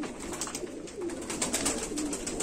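Sheikho pigeons kept in lofts coo softly and steadily, low and muffled against a hissy background, with no voices present.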